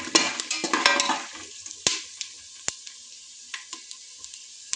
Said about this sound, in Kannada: ಶೇಂಗಾ ಹಾಕ್ಕೊಳ್ಬೇಕು. ಸ್ವಲ್ಪ ಶೇಂಗಾ ಕೆಂಪದಾಗಿ ಹುರ್ಕೊಳ್ಬೇಕು ಎಣ್ಣೆಯಲ್ಲಿ.